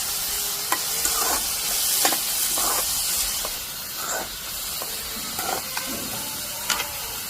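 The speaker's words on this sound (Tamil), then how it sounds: "பார்த்தீங்களா, வெங்காயம் நல்லா வந்து வதங்கிட்டு இருக்கு" Onions sauté in a pan with a continuous hiss and sizzle, broken by repeated scraping stir strokes from a utensil, loud and close.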